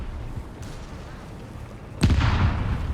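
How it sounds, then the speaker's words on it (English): A sudden heavy blast from a mine detonating in the WWII strategy game Company of Heroes 3 erupts midway, following quieter battlefield rumble, with a booming low-end tail lingering afterward. "More mines exploding here in the south."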